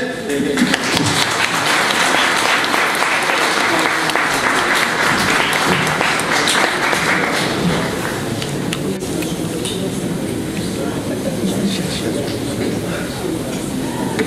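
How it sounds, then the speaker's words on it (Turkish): An audience at a formal speech event applauds in a sustained wave of clapping that fills the hall, loud and steady at first, then thinning slightly as it carries on. "Alkışlayık."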